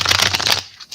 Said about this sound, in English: Let's do one more cool style shuffle.